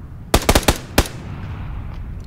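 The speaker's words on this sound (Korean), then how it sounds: "총소리 들었거든요." A quick burst of five sharp gunshots in the video game PUBG: Battlegrounds, four in rapid succession then one more, ringing out loud before fading into low background noise.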